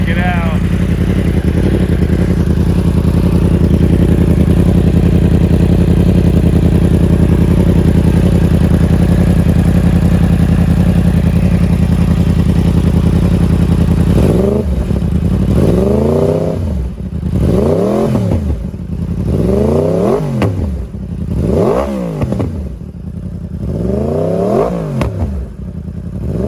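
A 2015-21 Yamaha R1 fitted with a Two Brothers exhaust idles loudly close up, then gives a series of sharp throttle blips, the revs rising and falling about seven times in quick succession.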